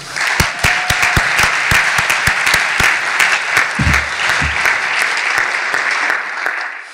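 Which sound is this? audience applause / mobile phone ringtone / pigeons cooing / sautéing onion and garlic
audience applause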